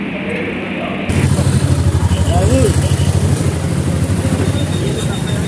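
Two police motorcycles ride slowly alongside a man walking on a road in Kerala, their engines holding a steady, low rumble close by while voices murmur in the background.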